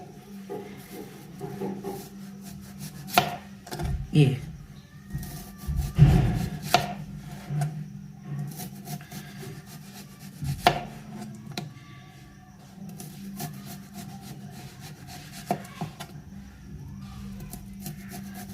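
A knife slowly cutting an onion into rings on a board, with soft sawing, crunching strokes and occasional sharper taps against the board, close and unhurried over a faint steady background hum.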